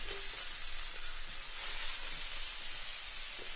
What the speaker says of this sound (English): So again, just literally stir and fry this.